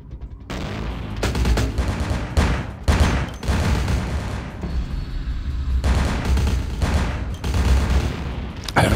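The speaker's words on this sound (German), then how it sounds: "Explodiert denn da hinten die ganze Zeit?" Dense, continuous bursts of gunfire and booming explosions in the video game Vampire: The Masquerade – Bloodlines, loud and close, with heavy rattling volleys and sharp blasts throughout and no voices.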